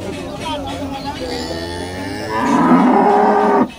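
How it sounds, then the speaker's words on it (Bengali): A heavily pregnant dairy cow at a cattle market lets out a loud, close moo that swells in the second half and stops abruptly, with a voice and market murmur underneath. "এই গাভী গরুটা দেখতে পাচ্ছেন ভিউয়ার্স"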